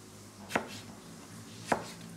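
A knife slices through a sea bream fillet on a board, cutting it on the bias into pieces; two sharp, distinct chops about a second apart, close and clear over a quiet background.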